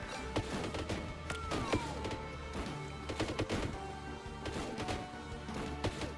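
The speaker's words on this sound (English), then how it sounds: "Let's try the bolt gun" Bolt gun firing in the Warhammer Survivors video game, a rapid run of sharp impacts and bursts over a steady game soundtrack, loud and dense throughout with crashes layered in.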